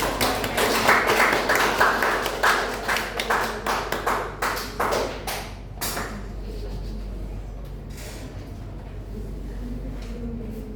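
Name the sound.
classroom applause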